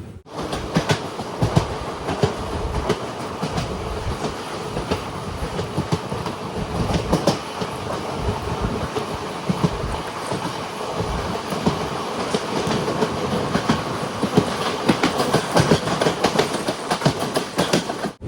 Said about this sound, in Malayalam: ട്രെയിൻ ഇപ്പോൾ കുണ്ടറ റെയിൽവേ സ്റ്റേഷനിലേക്ക് എത്തിയിരിക്കുകയാണ്